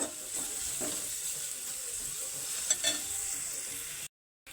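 Carrot and vegetables fry in a small amount of oil for noodles, a soft, steady sizzle with a faint clink of stirring partway through, followed by a brief cut to silence.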